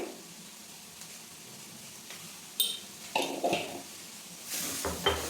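Vegetables fry in a pan in a home kitchen, with a soft sizzle underneath, clinks of a utensil against the pan and louder stirring scrapes toward the end.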